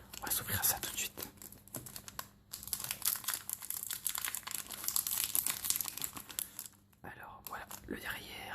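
Crinkly plastic wrapper of a 2010 Pokémon HeartGold SoulSilver booster pack being opened up close, with dense rustling and crumpling for several seconds, a brief pause, then more crackles.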